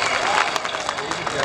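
Applause from the audience at a Bhojpuri folk Birha stage program in Naygaon, a brief, dense, steady spatter of clapping from a crowd.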